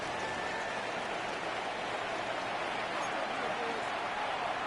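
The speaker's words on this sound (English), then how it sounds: "The rain not letting up." Rain falls steadily on an outdoor football stadium during a Buccaneers game, a constant hissing wash that fills the whole stretch with no breaks.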